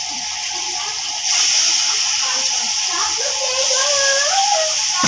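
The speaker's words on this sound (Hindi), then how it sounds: "हम डालेंगे इसके बाद सोया सॉस, तकरीबन 2 टेबलस्पून डालेंगे सोया सॉस के।" Soy sauce hits chicken chow mein in a hot pan, and a loud sizzling hiss jumps up partway through and keeps steaming steadily while someone talks nearby.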